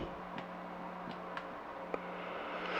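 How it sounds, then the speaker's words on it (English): A steady low electrical hum from a Silvertone 1478 electric guitar's pickups in the center position through a Caline Lorcan amp, a faint constant buzz, quiet and unbroken, dotted with a few soft clicks. "Oh, it still buzzes even in the center position."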